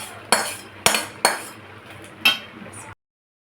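A spoon stirs cumin-spiced paste into a pot of pumpkin, carrot and sweet potato for pachan, giving four sharp metallic clinks against the pot with short gaps between them, close by, with no talk.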